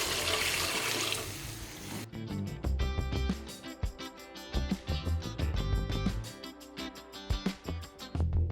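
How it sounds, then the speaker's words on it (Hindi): Water poured from a tap or jug into roasted moong and masoor lentils in a cooking pot, a rushing pour for about two seconds, then sizzling and bubbling as the liquid hits the hot dal, with no talk. "दाल को अच्छी तरह भून के अब हम इसमें पानी डाल देंगे।"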